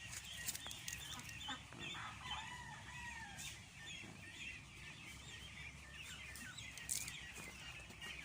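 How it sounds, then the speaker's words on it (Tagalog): A flock of Pekin ducks honks and quacks repeatedly on a farm, calls overlapping at a moderate distance over a continuous low background rumble. "Yung mga yan, peking duck. Ito naman yung mga pato."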